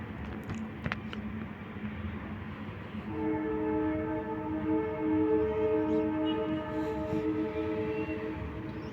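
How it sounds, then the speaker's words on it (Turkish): A ranforlu ore freight train, TCDD locomotive E 43 032, departs Niğde Ulaş station at night, a steady rumbling roll joined after a few seconds by a sustained, loud multi-tone horn. "Cevher treni ayrıldı istasyonda."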